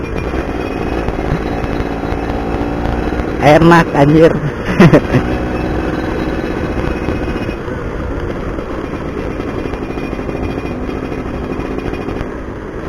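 A motorcycle ridden along a dirt track in the Pasir Jati hills, its engine droning steadily for the whole stretch, while a voice speaks briefly over it partway through.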